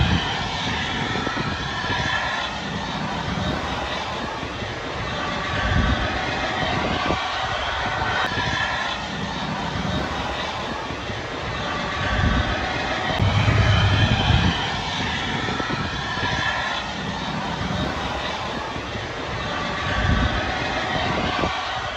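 An Air New Zealand DC-10 freighter's jet engines roar steadily at Sydney Airport, a loud, broad, continuous rumble that swells slightly and holds for the whole stretch, with no voices.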